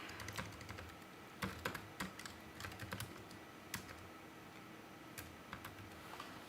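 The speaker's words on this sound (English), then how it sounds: "I'll just manually type in here Frank Felix." Typing on a computer keyboard, a quiet irregular run of soft key clicks with occasional sharper taps, close and alone.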